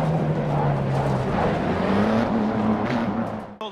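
A GT3 race car engine in Assetto Corsa Competizione drones loud and steady, its pitch slowly climbing and falling as it holds speed, close and continuous for a few seconds before cutting off abruptly.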